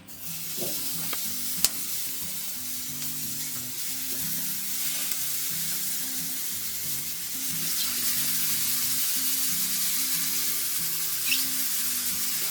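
Steak kabobs sizzle steadily on a hot grill, a continuous crackling hiss with faint clinks now and then. No voices.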